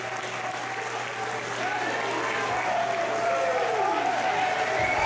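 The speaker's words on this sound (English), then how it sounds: "And the crowd is letting him hear it tonight." A wrestling crowd at a Limitless Wrestling show roars and applauds after a moonsault, a thick, sustained wave of cheering with whistles and shouts rising over it and swelling slightly toward the end.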